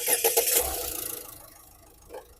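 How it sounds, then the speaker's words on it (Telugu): A 2019 Ford EcoSport Titanium+ with 38,000 km cranks briefly and catches, settling into a steady idle with a faint rev near the end, recorded close to the engine bay. "సింగిల్ సెల్ఫ్లో స్టార్ట్ అవుతుంది"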